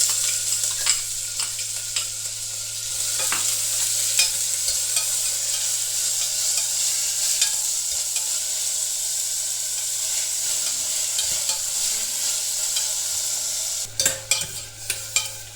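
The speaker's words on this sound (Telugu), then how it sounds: "ఆయిల్ వేడెక్కిందండి. ఇప్పుడు దీంట్లో ఆనియన్స్ వేస్తున్నాను." Onions frying in hot oil for a goat leg curry, a steady loud sizzle running throughout with intermittent scrapes of stirring and a few sharper clinks near the end; no voices.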